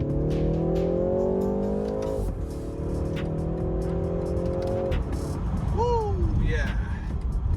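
A 2020 BMW 330i accelerates hard, heard from inside the cabin. The loud, close engine note climbs through two quick upshifts, and brief squeaky, voice-like sounds come near the end.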